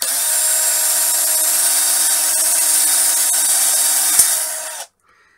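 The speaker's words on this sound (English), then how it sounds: "Found another 6mm wood drill, so let's give that one a try." A power drill with a 6mm wood bit bores into wood with a steady high whine for nearly five seconds, then stops abruptly. No voices.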